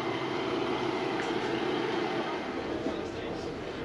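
A two-car Class 150 diesel train pulling away on a branch line toward Coombe Junction, heard from inside as a steady broad engine and rail rumble, with faint talk underneath.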